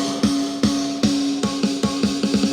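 Music plays from a small Bluetooth speaker: a sustained tone is punctuated by sharp rhythmic hits at an uneven, quickening pace, heard close and alone.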